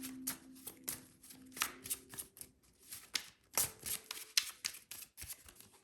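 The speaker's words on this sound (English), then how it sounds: "I kind of want to take these cards back." Tarot cards being gathered and shuffled by hand during a card reading, a quick run of crisp riffles, taps and snaps close to the microphone over a faint, steady tone.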